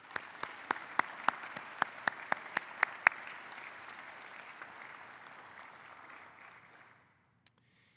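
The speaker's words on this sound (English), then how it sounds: "Please join me in, again, a round of applause to recognize these heroes for their selfless service to Tennessee." Applause rises at an award ceremony honoring Tennessee heroes, a moderate, somewhat distant clapping crowd punctuated by a few sharp nearby claps in the first seconds, sustaining then fading to silence after about seven seconds.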